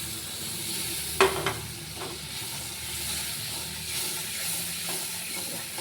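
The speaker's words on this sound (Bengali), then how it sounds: "এবার মশলাটা ভালো করে কষাবো, একটু জল দিয়ে দিচ্ছি" A spice mixture being sautéed with a splash of water gives off a soft, steady sizzle and hiss, with an occasional clink or scrape of a utensil near the start.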